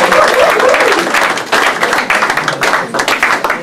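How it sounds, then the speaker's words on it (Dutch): Crowd applause at a pearkekeatsen (Frisian handball) match in Tytsjerk for a player named Dolberg, dense clapping that thins into scattered claps, with faint voices mixed in. "En applaus van Dolberg."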